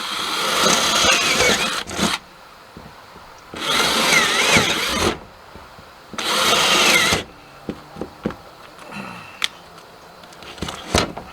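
A power drill whines through wood in three sustained bursts separated by pauses, followed by scattered knocks and clatter nearby.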